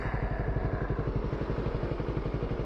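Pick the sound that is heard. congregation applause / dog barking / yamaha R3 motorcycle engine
yamaha R3 motorcycle engine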